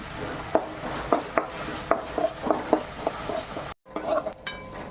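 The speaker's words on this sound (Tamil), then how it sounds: "நம்ம அரைச்சி வச்சுருக்கிற வெங்காயம் உருண்டை சேர்த்துக்கலாம் இது நல்லா வதக்கி எடுத்துக்கலாம்" Ground onion paste sautéing in a pan, stirred with a metal spoon that scrapes and taps the pan in a loose rhythm over a soft sizzle, with a brief dropout near the end.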